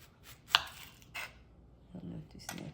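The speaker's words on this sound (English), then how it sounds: "So for the onion, I'm just gonna simply cut them in rings." A knife slicing an onion into rings on a cutting board: a few faint, scattered cuts and board knocks at close range, quiet and irregular, with soft background noise.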